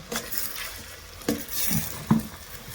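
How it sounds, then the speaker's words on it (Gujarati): Biryani stirred in a cooking pot: a few scraping stirs and soft clinks of a utensil against the metal pot, close up, over a faint background sizzle. "પેલા આમ હલાવી લઈએ આને"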